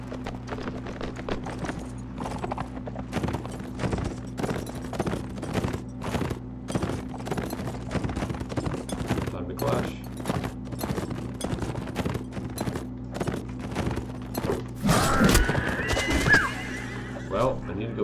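A horse neighing loudly near the end, amid rapid clip-clop of hooves and clashing combat sounds in the video game Mount and Blade: Warband, with a steady low hum beneath and a person talking over it.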